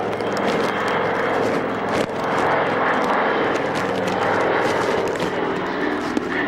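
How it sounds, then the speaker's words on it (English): Propeller airplane making a low wing-wagging pass at the Middle Wallop Army Air Corps airshow, a loud steady engine drone filling the air with a slight swell as it passes. "Now this is a wing-wagging pass."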